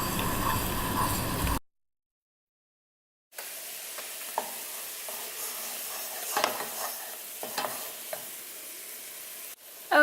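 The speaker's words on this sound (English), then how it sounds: "You can see here that it has started to boil. You want to make sure to stir it so the liquids don't burn." Boiling liquid in a pan being stirred while making a lemon butter cream sauce for baked cod, a soft bubbling sizzle with occasional scraping clinks, faint and close after a short silence.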